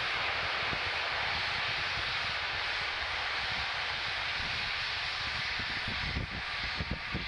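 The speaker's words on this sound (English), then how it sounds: "The process you're seeing right now, that venting, are the ground gas closeouts." A SpaceX Falcon 9 rocket vents gas at the pad before liftoff, giving a steady, far-off roaring rush that fills the clip, with faint rumbling near the end.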